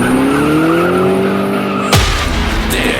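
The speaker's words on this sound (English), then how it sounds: "if the hair on the back of your neck stands up when you hear tires squeal" A car engine revs loudly and steadily, then a sharp burst of tire squeal and skidding cuts in near the end. The sounds are close and intense, with no talking.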